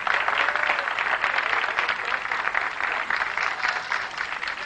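Participants at a music competition give continuous, dense applause, loud and even throughout with no break.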